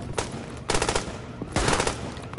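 Gunfire in the video game The Division comes in three rapid automatic bursts, loud and close, with short pauses between them.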